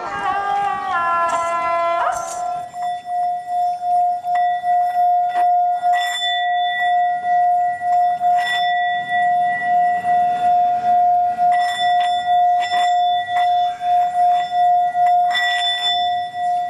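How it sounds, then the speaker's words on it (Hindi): School bell ringing with one long, steady metallic tone held for many seconds after a few brief busy sounds at the start, with faint scattered noises over it. "घंटे की वो आवाज़ मेरे स्कूली जीवन का एक हिस्सा रही है"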